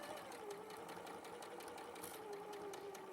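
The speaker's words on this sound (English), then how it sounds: "And then I'm going to sew that again with a 1/4 inch triangle." A sewing machine stitches a quarter-inch seam on a quilt piece, a quiet, even mechanical whirr with rapid needle ticking, running continuously and alone.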